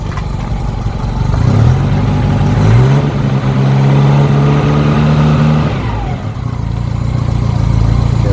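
A Citroen 2CV's engine revs up and holds at a raised, buzzing pitch, then drops back toward idle, close and loud throughout.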